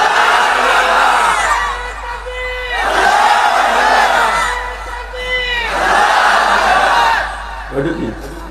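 At a religious gathering, a large crowd shouts takbir in three loud, swelling waves, each rising and falling in unison, with brief pauses between them.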